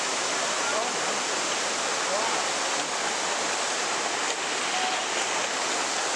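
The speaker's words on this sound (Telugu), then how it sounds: "పాల్కొండలు వాటర్ ఫాల్స్ చూడండి" Palakondalu Waterfalls roar in a dense, unbroken rush of falling water that stays loud and constant throughout, with a voice faintly present under it.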